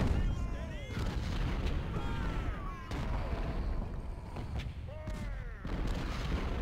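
Cannon and musket fire in the Civil War game Ultimate General Civil War, repeated booming artillery shots and crackling volleys every second or two over a dense battle din.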